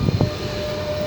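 Train number 124, refurbished, leaving Planoles station with a loud steady rumble and low mechanical rattle, a couple of brief clunks at the start, and a sustained tonal whine running through.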